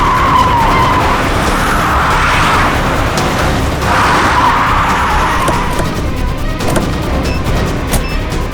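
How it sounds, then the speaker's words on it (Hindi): A car skids hard to a stop, loud screeching tire squeals rising in two long bursts and then fading into rough road noise, close and with no talk over it. "सर गाड़ी रोक दीजिए, गाड़ी रोक दीजिए सर।"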